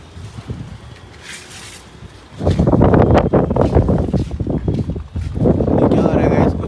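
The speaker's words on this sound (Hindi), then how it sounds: "आप इससे अंदाज़ा लगा सकते हो कितनी तेज़ हवा चल रही है।" Strong wind roars and buffets the microphone in loud, sustained gusts during a sudden weather change in Amritsar, with a quieter stretch at the start and a brief lull near the end.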